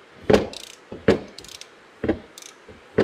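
A ratchet hand-cranks a Nissan X-Trail QR25 engine over with its spark plugs out, giving four separate loud clicking bursts spaced about a second apart, close by with no talk.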